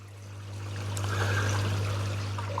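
A garden water feature in a modern Northwood, Hertfordshire garden spills water into bowls, a steady close trickle and splash over a low constant hum, with no voices.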